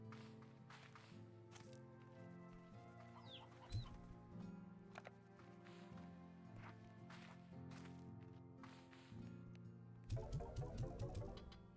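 Chickens cluck steadily in a farming video game, set among looping game music and chiming interface sounds, with a brief burst of denser activity near the end.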